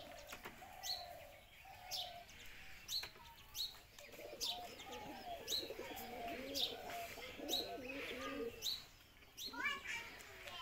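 Pigeons in a loft coo repeatedly in low, rolling phrases, mixed with sharp chirps and brief wing flaps, some birds close and others farther off; there is no talking.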